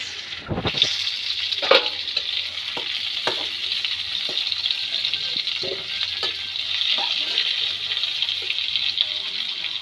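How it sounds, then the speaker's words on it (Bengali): Potato and cauliflower pieces fry in a pan with a little salt, a continuous close sizzle broken by several sharp clicks and scrapes of stirring over roughly ten seconds. "অল্প লবণ, আলু আর ফুলকপি খুব ভালো করে ভেজে নিয়েছি, এবার তুলে নেব।"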